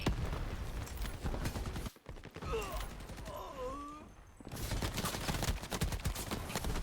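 Rapid AK rifle fire in the shooter game Shatterline, dense bursts of shots that break off briefly for a quieter stretch of other game sounds before the gunfire resumes, heard at moderate level.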